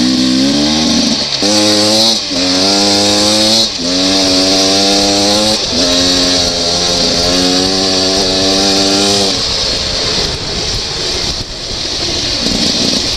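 A Beta 300RR two-stroke dirt bike being broken in runs in sixth gear. Its close, loud engine drone rises in pitch through steady throttle pulls, then drops off near the end into rough wind and riding noise.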